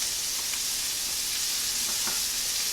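Cabbage going into a hot pan of onions and garlic, a steady broadband sizzle of frying with faint stirring clicks, close and continuous with no talk.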